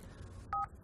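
A single short two-tone phone keypad beep sounds clearly in a quiet film scene.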